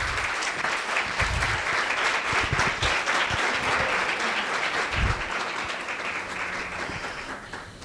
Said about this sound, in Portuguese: Levanta, que as palmas são para você.